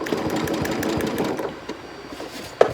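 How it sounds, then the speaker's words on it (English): Domestic sewing machine stitching free-motion quilting with the feed dogs lowered, a steady rapid whirring chatter for about a second and a half, then slowing and fading with a brief sharp click near the end. "the feed dogs are down, and I am regulating the stitch length by the speed in which I push the fabric through."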